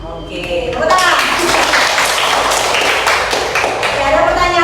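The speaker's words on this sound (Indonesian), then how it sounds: "Oke, tepuk tangan." Children in an elementary school classroom clap their hands together, a loud rush of overlapping claps mixed with young voices that fades out after a few seconds.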